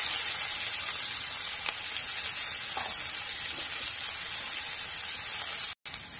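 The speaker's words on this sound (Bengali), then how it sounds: "গোটা জিরে দিয়ে দেব কুচনো পেঁয়াজ," Whole cumin and chopped onion sizzle in hot oil for a rohu fish curry, a loud, steady frying hiss close by with a few faint clinks, running alone until a short break near the end.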